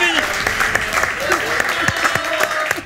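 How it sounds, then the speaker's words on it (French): Audience applause for a rapper on a rap game show, a moderate clatter of claps with a voice speaking over it. "Applaudissements, s'il vous plaît."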